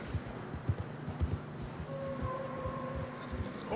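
Horses plod through deep fresh snow in the Red Dead Redemption 2 video game, a steady stream of muffled, uneven hoof thuds with faint tack jingles and a soft tonal hum underneath.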